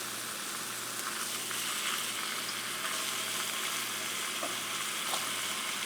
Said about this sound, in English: Now here's these sausages. I'm going to put these babies right here to get them started.